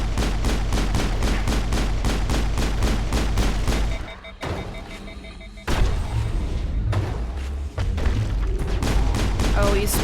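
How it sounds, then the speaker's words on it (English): Rapid bursts of gunfire from squadmate Rex in the Mass Effect video game, loud repeated shots in quick rhythm, a short pause, then more volleys. "Rex, why are you shooting the goddamn wall?"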